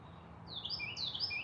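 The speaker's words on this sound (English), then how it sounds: "That bird is crazy." An outdoor bird calls with a string of sharp, high chirps and whistles, fairly close, over a low steady background hum near a back porch.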